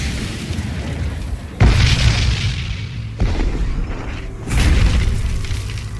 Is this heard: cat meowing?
no